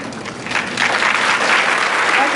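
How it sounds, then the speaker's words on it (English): Audience applause after a color guard performance at an opening day event, a steady sustained round of clapping that swells slightly and holds loud throughout, with no talk over it. "I hear a round of applause for Eddie Carlin, Dallas Morgan, Morgan Brooks, Caitlin Corsi"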